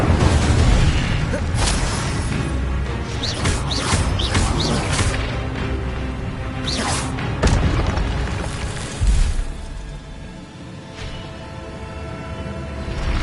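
Spells such as Levioso and Incendio cast in Hogwarts Legacy, a dense run of booming, whooshing magical bursts with sharp pops and swells layered over continuous game background sound for several seconds.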